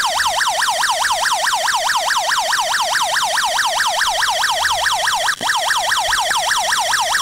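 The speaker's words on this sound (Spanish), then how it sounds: "Se activa la alarma." An electronic water-level sensor alarm wails continuously in a fast, rising-and-falling sweep, loud and steady, with one brief click partway through.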